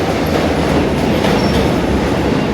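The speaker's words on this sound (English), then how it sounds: "There's a train just pulled in on our left" A metro train pulls into a busy station platform with a loud, steady rumble of wheels and carriages, rattling and faint squeal throughout, close by and with no talking.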